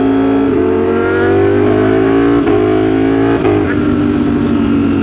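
Ducati Streetfighter V4 motorcycle engine accelerating hard, loud revving that climbs through gears with quick-shifter breaks between rising pulls, close and continuous.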